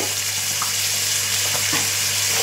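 Coriander stems frying in a pan for a seer fish fry curry, a loud constant sizzle with faint scrapes of stirring and no speech.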